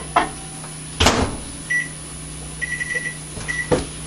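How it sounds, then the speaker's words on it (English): A microwave oven heating food hums steadily with a low drone, punctuated by a few clunks and short high electronic beeps near the end. "then you just pop it in the microwave for a couple minutes"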